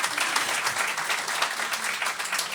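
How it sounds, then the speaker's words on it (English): Audience applause at the Scotsman's Fringe First Awards, a dense, steady wash of many hands clapping close and loud for the whole stretch, with no talk over it. "give them a round of applause for being terrific sponsors to us"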